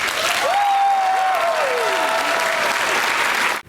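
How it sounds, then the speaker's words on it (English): A convention crowd applauds loudly and steadily at a closing ceremony, with cheers and whoops rising over the dense clapping, which cuts off sharply at the end. "So give yourselves a round of applause."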